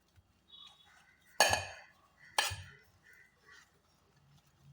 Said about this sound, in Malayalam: ഇനി ഇത് ഒന്ന് ചെറുതായിട്ടൊന്ന് മിക്സ് ചെയ്ത് കൊടുക്കാം.